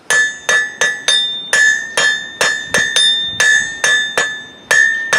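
Hammer blows ring on an anvil as a blacksmith draws out a taper, about a dozen sharp metallic strikes in a steady rhythm, each with a bright ringing decay, close and loud with no talk.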